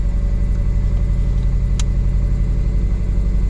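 A Subaru car engine with a spark plug misfire idles loudly and close with a steady pulsing throb; the rhythm sounds slightly uneven, and a brief click cuts in midway.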